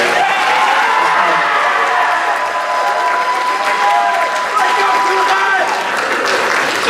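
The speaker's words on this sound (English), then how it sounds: "thank you guys so much for that round of applause" Audience applause at a school fall movie concert, a steady wash of clapping from a large crowd throughout, with some cheering.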